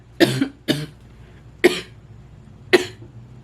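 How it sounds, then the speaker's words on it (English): Four harsh, close coughs from a woman sore after a workout, the first two in quick succession and the others spaced about a second apart, with quiet room tone between them. "That hurt to cough."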